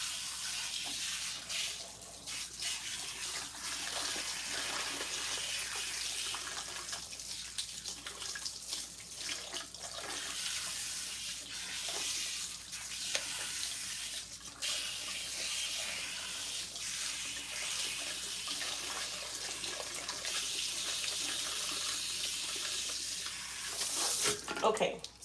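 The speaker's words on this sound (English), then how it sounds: "what I'm doing right now is I'm just rinsing out all of the spritz that I have in my hair" Tap water running steadily as hair is rinsed under it, a continuous close hiss that holds through the clip, with a brief louder splash near the end.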